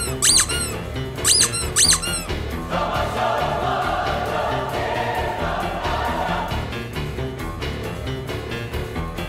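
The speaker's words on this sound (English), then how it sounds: "Moses, this would be a good time for your squeak of doom" Squeak of doom sound effect: three sharp, high squeaks at the start, followed by a long, sustained squealing tone over steady noise.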